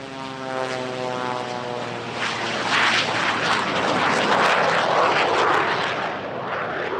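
A reinforced 1929 Waco taper wing biplane fitted with jet power plants flies at an airshow, its buzzing engine note sliding downward before a loud, broad roar builds and holds, then eases slightly.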